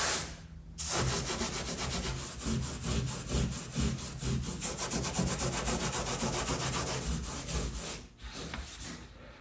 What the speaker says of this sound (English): Now obviously I don't want to scrub too much on this top.